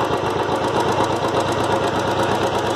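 Royal Enfield Classic 350 motorcycle engine running during carburetor tuning, a steady close thumping idle with rapid rhythmic pulses, loud and continuous with no talking.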